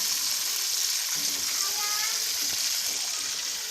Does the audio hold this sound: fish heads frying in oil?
yes